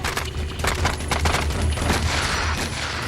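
Heavy gunfire rolls through a nighttime sniper shootout with terrorists at the 1972 Munich massacre, a loud, dense and continuous crackle of overlapping shots with no voices.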